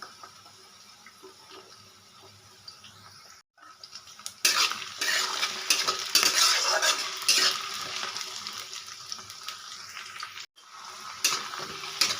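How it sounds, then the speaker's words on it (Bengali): Onion and potato frying in goat fat for a chickpea ghugni, a steady loud sizzle with scraping stirring strokes, briefly dropping out twice before resuming stronger. "পেঁয়াজ আলু সুন্দর করে ভেজে নিয়েছি"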